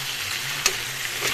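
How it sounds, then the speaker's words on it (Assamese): Cauliflower and potato pieces frying in hot oil in a pan, a steady soft sizzle with a brief sharper crackle partway through. "এতিয়া সেই একেখিনি তেলতে মই ফুলকবি আৰু আলুখিনি গলাই দিম।"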